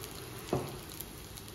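Garlic cloves and cumin seeds sizzle on low heat in a pan: a steady soft frying hiss with one brief louder crackle partway through, close and fairly quiet, no talk.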